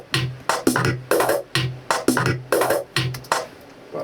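The end fill from the first part of a produced electronic track, pitched and staticky: a rhythmic run of sharp percussive bursts that repeat about every half second, close and alone.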